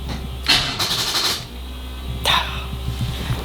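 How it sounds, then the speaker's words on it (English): A Buick Regal engine is cranked off a jump box, two bursts of rapid whirring starter churn separated by a pause, close and loud over a low steady hum. "let's get this on the jump box and we'll fire it up"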